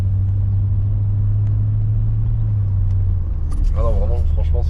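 An older Mercedes saloon's engine runs at low revs, a deep steady rumble heard from inside the cabin, then eases off and picks up again as someone talks over it.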